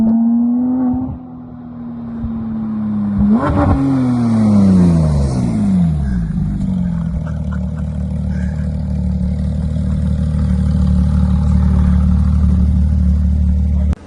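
A Porsche GT3 sports car engine revs hard on canyon roads, climbing in pitch, dropping sharply around a shift, then settling into a loud, steady, close-up engine drone with no talk over it.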